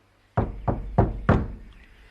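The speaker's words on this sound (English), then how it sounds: "so he knocked louder." Four firm, evenly spaced knocks on a wooden door, loud and close, each ringing briefly before the last fades into a quiet room.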